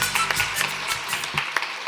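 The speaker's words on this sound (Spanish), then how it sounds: "Fuerte los aplausos" Scattered claps from a seated audience, a handful of sharp separate hand claps at an uneven rhythm that thin out toward the end instead of building into full applause.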